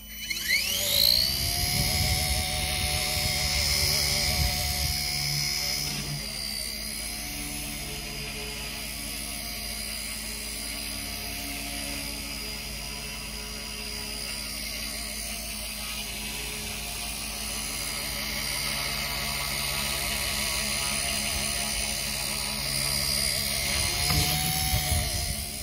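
A Blade Nano S3 micro RC helicopter spools up and hovers indoors, its tiny motor and rotor giving a steady high-pitched whine that shifts in pitch now and then, close to the recorder throughout.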